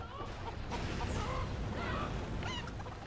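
Cartoon chickens clucking and squawking in the Family Guy Chickens in Space video game, a busy, close run of repeated clucks and honk-like calls over a dense, noisy game soundtrack.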